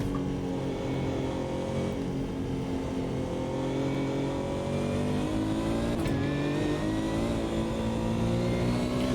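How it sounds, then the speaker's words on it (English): Porsche GT1 race car with a flat-six engine in the Automobilista 2 sim racing game, droning steadily and loudly throughout with a low, slightly lethargic tone and gradual pitch rises as it accelerates, with no talking. "So this is propelled by a flat 6 and it kind of sounds like it as well"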